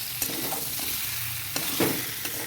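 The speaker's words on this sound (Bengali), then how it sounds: "এরপরে আমি নেড়ে নেবো ভালো মতো" Soybean chunks and potatoes stirred while frying in a pan, a continuous close sizzle with several scraping spatula strokes and light knocks.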